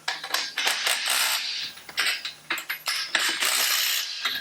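Bolts on a traditional hotrod build being tightened with a ratchet wrench, producing rapid clicking bursts of the pawl in short repeated strokes, close and crisp, with no talking.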